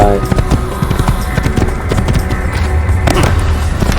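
Horse hooves clip-clop in a steady, fairly loud rhythm in the Assassin's Creed game, mixed with other game sounds and some speech.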